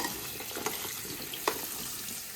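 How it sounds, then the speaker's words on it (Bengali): Tap water runs steadily into a sink while potatoes are washed by hand, a continuous splashing wash with a couple of brief louder knocks or splashes, fairly close and with no voices. "ভালো করে আমি ধুয়ে নিচ্ছি যাতে ধুলো ময়লা না থাকে।"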